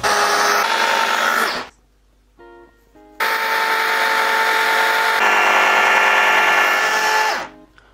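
A blender loudly whirs through hummus as oil is added, running in a long steady drone, pausing briefly with a few short pulses, then roaring on again before stopping.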